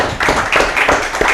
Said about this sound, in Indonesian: Tepuk tangan untuk Roy.